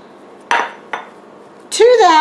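A utensil strikes a baking pan twice as mashed potatoes are mixed in it. The two sharp metallic clinks come close together, and a brief voice follows them.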